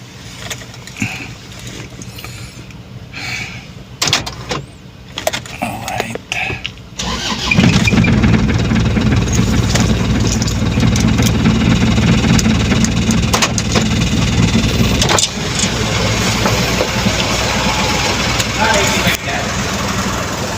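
A car engine in Baguio starts up partway through and then settles into a steady, loud idle that runs to the end, with people talking nearby throughout.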